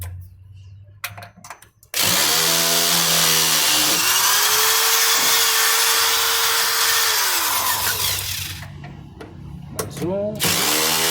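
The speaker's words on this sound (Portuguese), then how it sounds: "Já está folgado os parafusos. Vamos retirá-lo, ok?" A power screwdriver fitted with an adapter backs loosened screws out of an Electrolux LFE 11 washing machine, its motor whining loudly and continuously as it spins up, holds pitch and winds down, with brief talk before and after.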